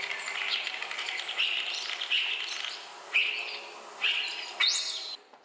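A starling sings from a power wire with a series of whistled, squeaky phrases in short bursts, followed by a rising whistle, fairly close against quiet background noise.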